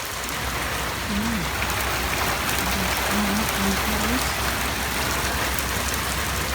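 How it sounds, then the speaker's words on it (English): Heavy rain pours steadily outside an open window, a dense broadband hiss of drops on surfaces that stays loud and even throughout, with a few faint low tonal sounds surfacing in the middle. "It's definitely raining harder now."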